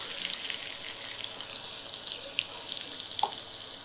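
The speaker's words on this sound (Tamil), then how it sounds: "இந்த பூண்டு கொஞ்சம் நல்லா வதங்கணும்." Crushed garlic frying in oil, a steady, close hiss of sizzling with a few brief crackles and pops.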